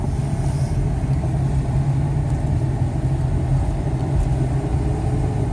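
A 1998 Chevrolet Astro Safari van drives on cold, icy roads, its engine a steady low drone with road rumble and tyre noise heard from inside the cabin.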